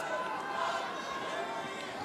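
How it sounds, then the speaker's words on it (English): Crowd at the 2012 Australian Open men's final between Djokovic and Nadal, a dense diffuse murmur of many voices filling the arena at an even level, with no single voice standing out. "Many in the crowd murmuring."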